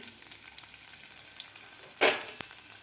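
Chopped garlic frying in oil until browned, for a spicy coconut Raja Rani chutney: a steady close sizzle with a sharp louder burst of crackling midway and a brief stir, no talk.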